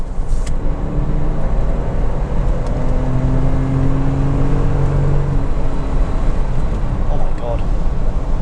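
A 2000 Porsche Boxster 986 with a 2.7-litre, 220 bhp mid-mounted engine drones steadily while driving, a continuous engine hum with wind and road noise, a voice speaking over it.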